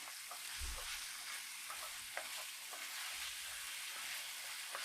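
Beef browns in a pan while a wooden spoon stirs it, producing a steady quiet sizzle with soft scraping and occasional light taps, close by and with no speech.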